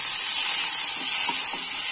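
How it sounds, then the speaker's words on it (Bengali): Small khoira fish frying and being stirred in a pan for a spicy jhal, giving a steady close sizzling hiss that runs unbroken throughout, with a few faint scraping touches. "ছোট খয়রা মাছের ঝাল, এভাবে নেড়েতে আর একটু কষিয়ে নেব।"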